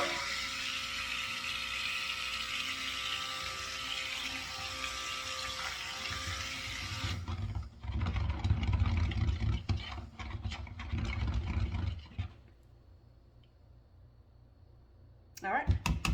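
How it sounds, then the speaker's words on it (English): A stick blender whirs while mixing oils and lye water for cold process soap, a steady motorized buzz in bursts that stops and restarts, with a person talking over it and brief quiet gaps. "And we'll get it all mixed up with the stick blender."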